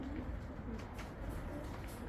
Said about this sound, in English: It's a group of pigeons coming over.